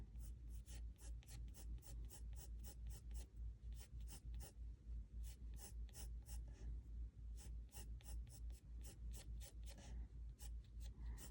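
A yellow ochre coloured pencil scratches short, rapid strokes across paper while shading a sunflower study, a steady close rhythm of soft scratchy hatching with brief pauses, quiet and alone.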